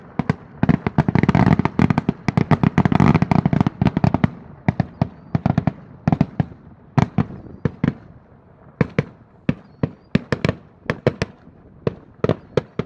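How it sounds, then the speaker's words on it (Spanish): Firework rockets burst in a dense, continuous barrage for the New Year religious festival welcoming Christ the King, then thin into separate sharp bangs at irregular intervals, loud and fairly close, with no talk. "son 20 gruesas de cohetes que están tronando en señal de la llegada de Cristo Rey, Padre Jesús, aquí en Aquisla."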